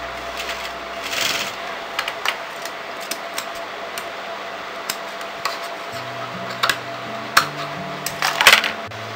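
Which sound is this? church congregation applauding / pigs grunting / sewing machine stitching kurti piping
sewing machine stitching kurti piping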